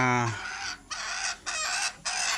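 Several hens cluck close by in quick, uneven bursts, one call overlapping the next, fairly loud against a quiet background.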